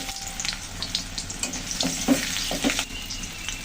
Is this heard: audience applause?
no